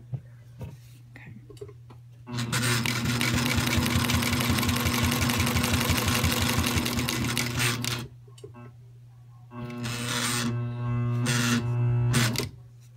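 A Sailrite 111 sewing machine with a monster wheel attachment runs a topstitching seam in two loud bursts of rapid, even needle clatter separated by a pause, and a voice speaks quietly in the gaps.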